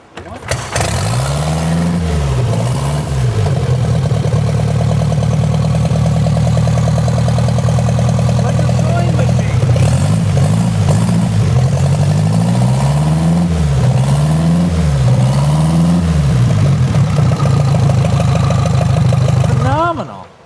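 A 61 cubic inch vintage motorcycle engine, started by turning the rear tire, fires up and keeps running loud and close for about twenty seconds, its steady thumping idle broken by several rising and falling revs.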